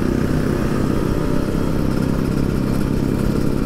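A Yamaha Scorpio 225 motorcycle engine idles steadily and close by, a continuous low rumble that holds even throughout, with no voices over it.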